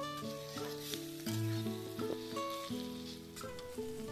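Onions frying in a pan with chillies, salt, sugar and turmeric for a kochur loti and prawn dish, a steady sizzle running under background music with no talk.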